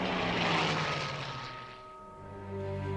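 Piston engine of a Hawker Hurricane fighter plane in flight during the Battle of Britain, a steady loud droning roar that dips slightly mid-way and swells again, with no voices over it.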